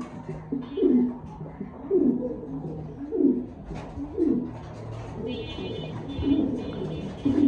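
An Andalusian pigeon coos close by in a series of repeated, low, throaty rolling calls at a fairly regular pace.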